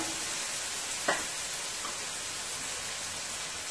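Vegetables sizzle steadily in hot oil for Guyanese-style dhal and rice, a continuous broadband hiss with one brief clack of a utensil near the pan.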